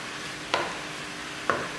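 Vegetables and spices fry in a pan with a steady soft sizzle, broken by two brief scraping strokes of stirring about a second apart.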